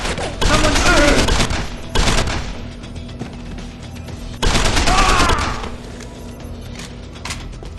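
Gunfire rattles in the video game Deus Ex Icarus Rising during a mission in Panama or Australia, loud sustained bursts of shots in two main volleys with a lingering echo and background rumble between them.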